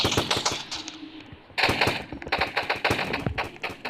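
Rapid bursts of automatic gunfire in the Roblox shooter Fortline, loud and close, with a brief lull in the middle before dense firing resumes; no talking.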